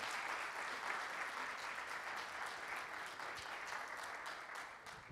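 A church congregation claps in praise during a Sunday worship service, sustained, dense applause from many hands, steady and fairly loud throughout with no pauses.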